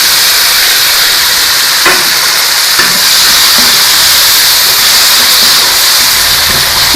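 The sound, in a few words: tomatoes added to a pan of browned onions, sizzling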